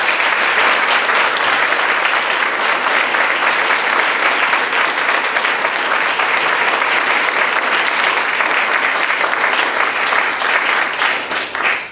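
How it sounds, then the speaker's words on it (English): Loud, sustained crowd applause for service personnel at a Baltimore gathering, dense and steady clapping from many hands that holds throughout before easing slightly at the very end. "Can we have a round of applause for them,"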